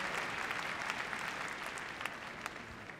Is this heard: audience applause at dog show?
yes